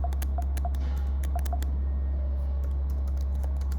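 Typing a command on a computer keyboard, sharp key clicks in quick irregular runs, close up over a constant low electrical hum.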